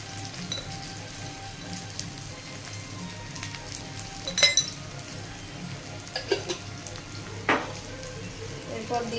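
Ginger garlic paste frying in a pan for egg tadka, a steady soft sizzle with occasional clinks of a spoon stirring against the pot.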